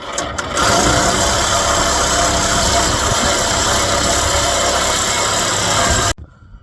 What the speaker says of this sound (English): Alright, let's cut this the rest of the way. The Sawzall sucks.